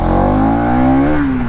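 A Bajaj Pulsar 200cc motorcycle engine revs hard and close, its pitch climbing steadily and then dipping at a shift.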